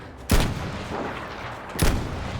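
Two loud sniper rifle shots in Battlefield V, each a sharp close crack with a booming tail, spaced about one and a half seconds apart over low battlefield ambience, no voices.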